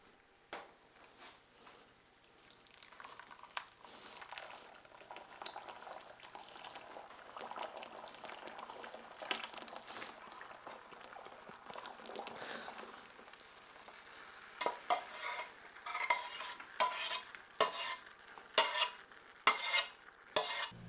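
Chicken and broccoli get tossed in melted butter in a pan, with soft bubbling and sizzling under intermittent clinks and scrapes of a utensil against the pan, growing busier and louder toward the end.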